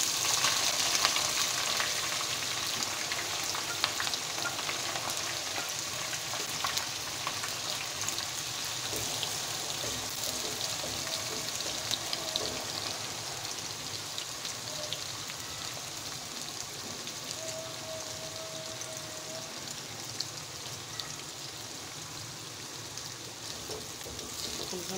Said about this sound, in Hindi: हम इसको करेंगे फ्राई।